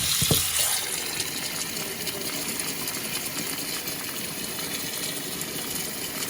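Tap water pours steadily into a kitchen sink with the stopper in, a constant rushing hiss beneath a garbage disposal, starting with a small knock and then holding an even, unbroken flow.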